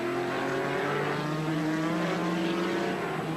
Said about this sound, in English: It sounds like the bottom's about to drop out of the car.